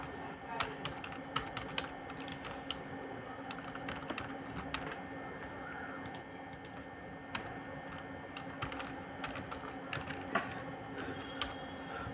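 Typing on a computer keyboard while a web development project is worked on, steady light key clicks tapping in uneven bursts over a low constant hum, close and fairly quiet.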